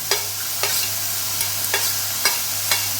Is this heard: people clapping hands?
no